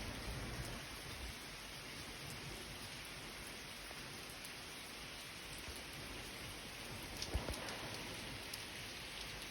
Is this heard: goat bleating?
no